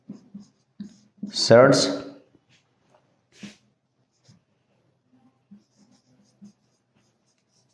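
A pen writes out a class 6 maths solution in soft, scattered scratches and taps, close by. Someone briefly speaks over the writing.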